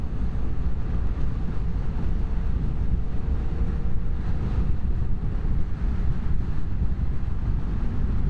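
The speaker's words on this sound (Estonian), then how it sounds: "tuul on selline küllaltki tugev, jahe alles" Strong, cool wind at the start of the motorcycle season buffets the microphone in a steady, loud, low rumble that holds without a break and masks any other sound.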